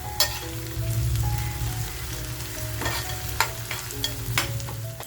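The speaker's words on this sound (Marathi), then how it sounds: "म्हणजे ते सुद्धा तेलामध्ये असं खमंग परतलं जाईल" Crushed garlic and ginger with onion frying in hot oil in a home kitchen pan, a steady close sizzle with occasional spatters and stirring clicks, no voices.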